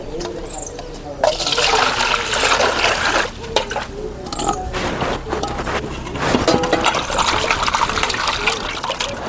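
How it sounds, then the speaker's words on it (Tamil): Water gushes and splashes in uneven pours as leafy greens are rinsed for a herbal rasam, with speech running close by throughout. "இந்த அளவுக்கு நல்லா சுத்தமாக அலசிக்கணும்."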